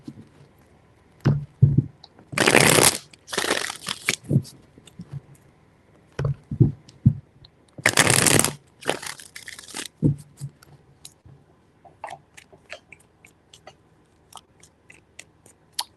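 Several bursts of riffling card shuffles, each a short papery flutter, separated by soft taps and quiet pauses, close up.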